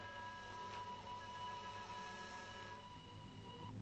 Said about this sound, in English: I thought I heard a train whistle. It's coming.